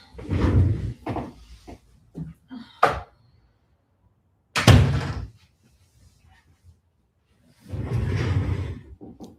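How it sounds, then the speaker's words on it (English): An indoor room door is pushed shut, with soft rustling and movement before a sharp click and a solid thud close by, followed by brief shuffling. "I'm gonna close the door."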